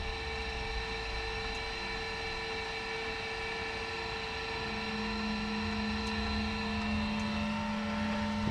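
Quiet electric motor raising and lowering the power head on an HM130 Max sawmill, a steady hum with a faint low whine that joins in partway through, heard alone.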